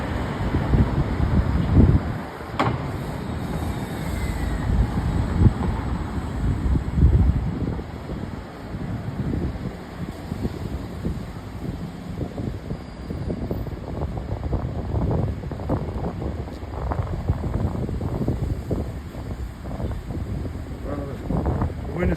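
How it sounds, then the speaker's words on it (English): Wind on the Brooklyn Bridge buffets the microphone in a loud, continuous low rumble with gusty swells. Faint city noise sits underneath. "The wind is starting to blow my hat off yet again."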